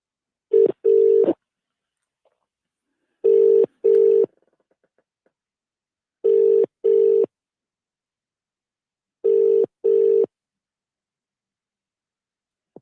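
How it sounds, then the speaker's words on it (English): A telephone rings out for a radio phone-in caller, four evenly spaced double-burst rings about three seconds apart, clean and loud with silence between. "let's dial up our first caller"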